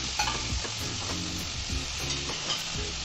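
Ginger, garlic and onion frying and being stirred in a pan, a steady close sizzle broken by the scrape and clatter of the spoon every half second or so, with no talking.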